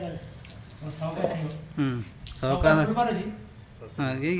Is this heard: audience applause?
no